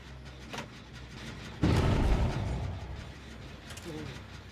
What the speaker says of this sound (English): Where the fuck was that explosion?